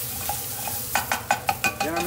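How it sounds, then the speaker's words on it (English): Tomato being stirred into espagnole sauce in a pan, a spoon scraping in about six quick, evenly spaced strokes over a soft steady sizzle, close and fairly loud, no voices. "Just kind of mix the tomato in"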